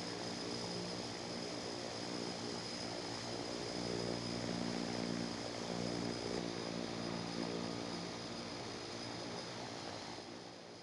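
A Dash 8 turboprop airliner in the Infinite Flight simulator takes off from runway 27 at San Diego International, its engines and propellers droning loud and steady throughout with a constant high whine, no talk.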